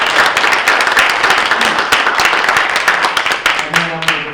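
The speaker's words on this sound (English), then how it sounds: "Join me in giving them a round of applause." Dense audience applause and clapping fills a company AGM meeting room, steady and loud throughout, with a few voices rising near the end.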